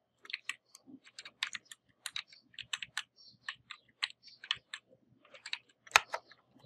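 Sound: computer keyboard keys being pressed (WASD, Enter)

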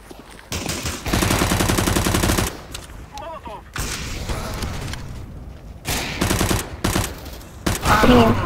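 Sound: gunfire in video game CS:GO

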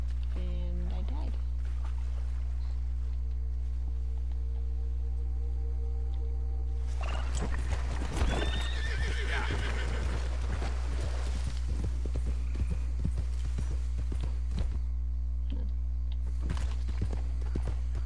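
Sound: horse neighing and hooves in PS4 video game

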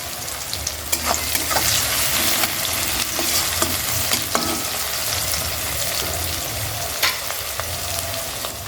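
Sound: onion lightly frying with salt

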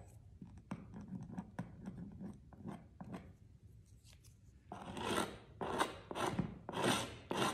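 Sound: scraping out wet paper pulp in a pulp painting

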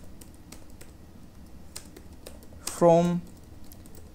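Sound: typing code on a computer keyboard

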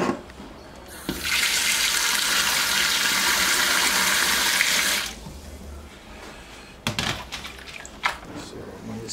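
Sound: water pouring into a pot

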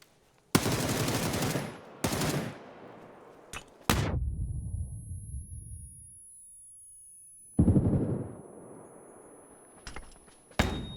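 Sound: gunfire in PUBG video game

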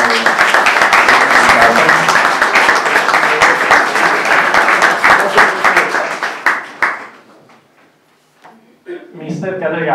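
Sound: audience applause

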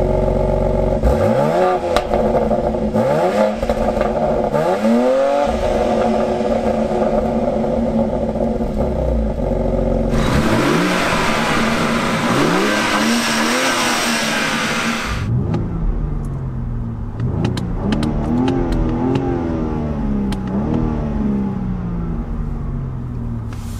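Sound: BMW X3 M twin-turbo straight six accelerating in drag race

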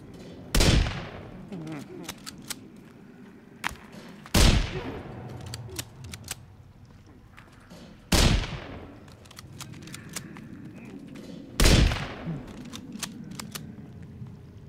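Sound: rifle gunfire in Sons of the Forest video game

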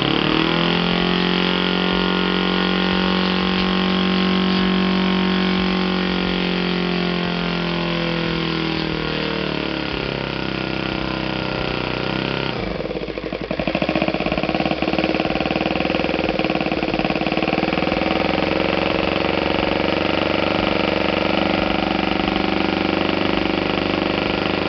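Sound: Saito FA 120S model aircraft engine running

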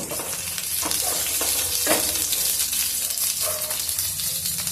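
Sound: green chillies frying in a pan

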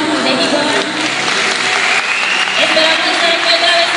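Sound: audience applause at a cosplay runway show

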